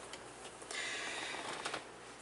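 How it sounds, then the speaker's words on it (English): Tarot cards shuffled by hand in a short, quiet burst of riffling and soft slapping, close and alone with no talk. "So let me shuffle these."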